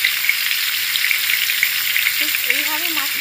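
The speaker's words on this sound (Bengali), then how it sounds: "ভাজার জন্য একটু সময় ধরে অপেক্ষা করতে হবে" Rohu fish fries in a pan over medium gas flame, a loud continuous crackling sizzle with small pops, and a faint tonal whistle rising near the end.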